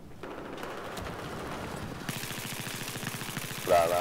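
Rapid automatic gunfire in Battlefield 4 on the Operation Locker map, a steady stream of fast, evenly spaced shots echoing at moderate distance over constant background game noise.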